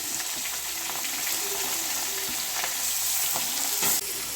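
Onions sizzle and crackle in a hot pan as the base for tomato thokku in a village kitchen, a loud, continuous frying hiss with occasional stirring clatter and no talking.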